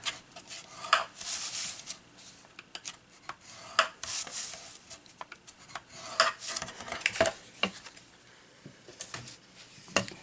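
A tool scores cardboard for a songbird treat holder box, giving close, dry scraping and rubbing strokes in irregular bursts with sharp clicks between them.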